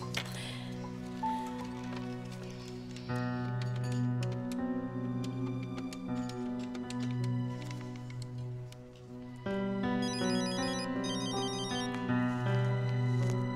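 A phone's ringtone plays as a call is placed in an Arabic drama scene, a steady melodic electronic tone pattern that repeats and shifts pitch, clear and close with no voices over it.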